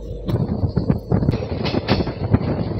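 A local train in South India runs at speed between Tiruchirappalli and Madurai, loud and close, with rumbling wheels, rhythmic clatter over rail joints and occasional sharp squeals.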